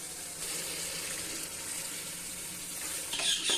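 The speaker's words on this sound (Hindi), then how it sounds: "और अब हम इसमें थोड़ा सा पानी डाल देंगे ताकि हमारी मटर जो है वो अच्छे तरीके से गल जाए।" Water runs into a cooking pot of green peas for matar pulao, a steady close splashing pour that holds for a few seconds and swells slightly louder near the end.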